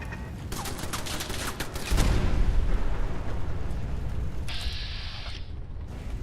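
A stun grenade goes off in Fallout 4, a loud, full-bodied blast near the two-second mark followed by a sustained rumbling roar, with sharper gunfire-like crackles before it and a bright hiss later on.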